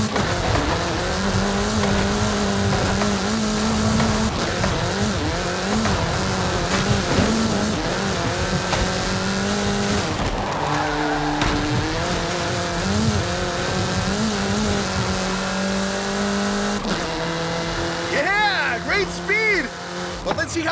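A race car in Forza Horizon 5 revs and accelerates hard through its gears, the engine rising and dropping in pitch again and again, with tire squeal and a brief whining burst near the end, all loud and close.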